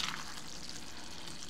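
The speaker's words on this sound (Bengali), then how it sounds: "আমি একটু নেড়ে দিচ্ছি" Loitta shutki, dried Bombay duck fish, being stirred as it fries in a pan, making a steady sizzle and hiss with a brief clatter at the start.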